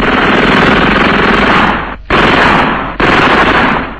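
Loud, sustained machine-gun fire with relentless rapid bursts, broken by two brief pauses, recalling the shooting of the Tsar and his family in 1918.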